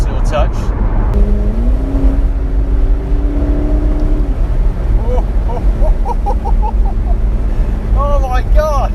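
McLaren 650S Spider engine revving and pulling hard, a loud rising drone that holds then drops with gear changes, heard from inside the car, with a voice speaking over it in the second half.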